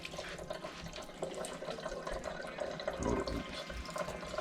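Cold tap water runs over raw, uncleaned chitterlings in a sink, a steady close splashing stream with no talking.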